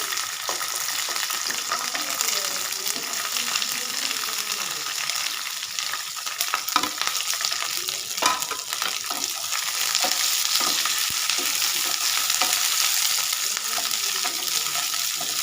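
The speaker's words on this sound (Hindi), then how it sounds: "मीडियम फ्लेम से शिमला मिर्चा फ्राई कर लेंगे" Chopped bell peppers and potatoes for a dry aloo shimla mirch sabji fry in oil over a medium flame, a steady close sizzle with occasional stirring scrapes and no voices.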